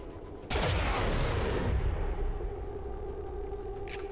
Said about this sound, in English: So he's going to shoot at him, and the troop is probably going to shoot at either of these two.